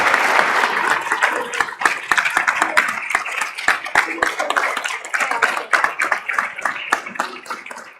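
Applause for Carolina at a formal ceremony on participatory budgets, steady clapping from an audience with sharp individual claps, fairly close and sustained, thinning slightly toward the end.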